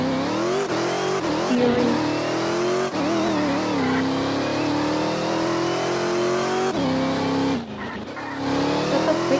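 A car in Roblox revs and drives continuously with engine tones rising and falling, tires skidding and squealing at moments, loud and steady throughout.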